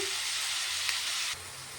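Onions frying in a pan for an egg curry, a steady close sizzle that drops slightly in level near the end.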